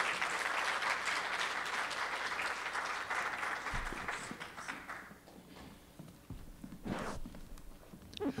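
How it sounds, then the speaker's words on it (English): An audience at an Atlanta mayoral forum claps for the candidates taking the stage, loud and dense at first, then fading out after about five seconds, leaving scattered taps, footsteps and light room noise. "Let's give them all a round of applause as they come to the stage this morning."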